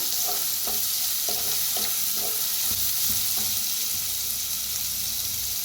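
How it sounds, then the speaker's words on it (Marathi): Hing spice paste is roasted in a hot pan for a kadhi vada dish, giving a steady close sizzle with a few light stirring taps early on and no talk. "हिंग वाटण बनवून घेतलं ते, आता भाजून घेऊया."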